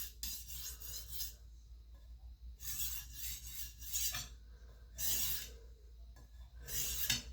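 A chef's knife drawn along a sharpening stone in full-length swipes, giving several quiet, rasping strokes in an uneven rhythm with brief pauses between them, close up and without speech.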